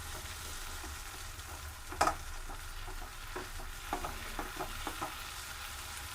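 A spiced masala paste frying and being stirred in oil for chicken curry, giving a steady soft sizzle with scattered stirring scrapes and a sharper clatter about two seconds in, no voices.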